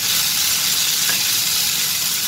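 Bottle gourd (churakka) chutney mixture with cumin is stirred in a hot pan in a Kerala kitchen, with a loud, steady hiss of frying close by and no pauses.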